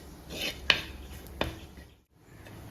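Chili and turmeric powder being sautéed in a pan while cooking a Kerala-style fish dish, heard as a few close, sharp clinks and scrapes of a utensil against the pan over a low background, no voices.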